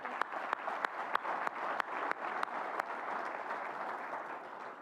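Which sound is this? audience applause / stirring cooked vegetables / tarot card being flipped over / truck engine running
audience applause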